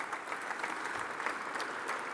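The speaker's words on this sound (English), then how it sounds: "So please give a round of applause to our hosts." An audience at a Toronto World Cup 2026 event applauds the hosts, a steady wash of many hands clapping, fairly faint and distant, with no speech.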